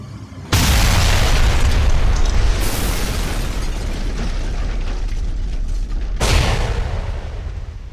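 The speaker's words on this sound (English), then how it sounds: "the builders are about to hit an unexploded bomb that's been sitting there since the Blitz in World War II?" A loud explosion from an unexploded World War II bomb left since the Blitz, erupting suddenly into a broad sustained roar that rumbles on for several seconds, then a second heavy blast burst near the end.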